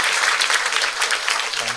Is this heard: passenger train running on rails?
no